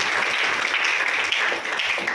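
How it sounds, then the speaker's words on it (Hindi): Audience applause for an honoured mentor at a Hindi-speaking seminar, a dense, steady wash of many hands clapping that fills the whole stretch at even loudness. "जोरदार तालियां उनके लिए होना चाहिए।"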